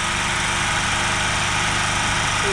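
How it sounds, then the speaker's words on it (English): A portable generator engine runs steadily at a garden chainsaw-carving site, a loud continuous droning hum with a mechanical rattle that holds level throughout and has no talking over it. "You have to excuse the noise, it's a generator."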